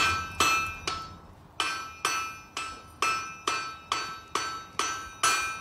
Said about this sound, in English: Hammer up, half on, half off, and hammer it down.